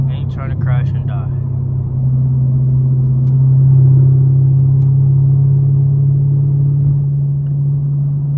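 A steady low engine rumble of a straight-piped Camaro SS in afternoon traffic, continuous throughout, with a brief voice near the start.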